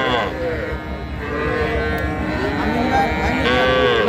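A native-breed bull calf at a cattle market gives a long, loud, continuous moo close by, with lowing and background crowd noise around it.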